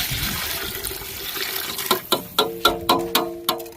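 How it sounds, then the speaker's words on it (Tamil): Water splashes and glugs into a cooking pot for biryani, a soft pour at first giving way to rhythmic gulping splashes, close by. "தண்ணி ஊற்றுறோம் இப்போ போட அதில்"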